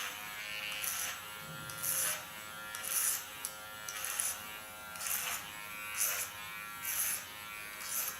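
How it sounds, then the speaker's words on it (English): A Kiona electric hair clipper buzzes faintly at close range, its hum swelling in regular passes roughly once a second as it moves along short hair. "Hold my clipper in the sharpest position. It's Kiona clipper."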